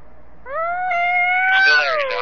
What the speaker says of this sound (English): There's a cat in my car.